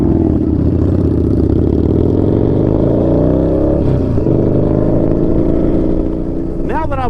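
Yamaha Bolt motorcycle engine while riding, a loud, close, steady rumble that drones continuously with slight shifts in pitch, and a brief rising whine near the end.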